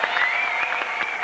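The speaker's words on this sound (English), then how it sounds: "Are we getting applause for Dani?" Studio audience applauding a game show contestant on Press Your Luck in 1986, a brief, dense burst of clapping, loud and steady, with no talk over it.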